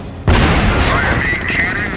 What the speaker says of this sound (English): Oh my God, taking fire.